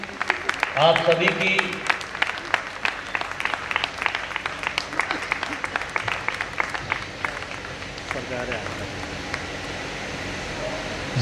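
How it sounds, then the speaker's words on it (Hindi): Loud, sustained applause from a large audience at a silver jubilee stage event, dense clapping filling the whole stretch with a voice briefly speaking over it. "जोरदार ताली"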